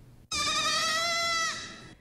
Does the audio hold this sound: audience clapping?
no